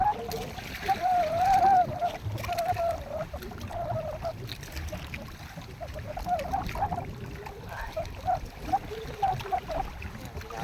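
Sea waves slapping and splashing against a small fishing boat in choppy water, a steady close wash of water with a faint tonal hum and occasional voices.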